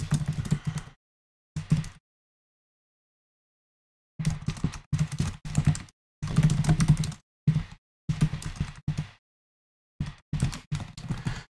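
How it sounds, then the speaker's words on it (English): A message is typed on a computer keyboard in quick bursts of clicking keys, separated by short pauses and one long gap, close and fairly clear, with no voices. "So here we'll type a message to the AI there."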